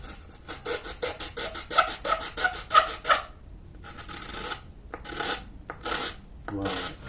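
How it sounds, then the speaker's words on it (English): Sandpaper rasps rhythmically back and forth over wood on a mandocello, in a run of quick scratchy strokes, a pause, then several more bursts. "sandpaper in there to smooth things up"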